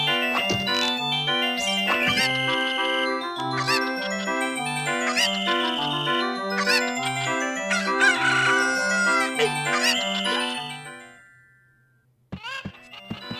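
Chiptune-style rooster crowing and clucking from a Legend of Zelda game, bright repeated tones with jingling chimes over a bouncy melodic loop that fades out near the end, followed by a few short clicks.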